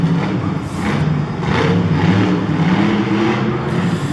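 A Max D monster truck's engine roars loud and close, revving in surges with a rough, throaty rumble at a Monster Jam freestyle event in St Louis.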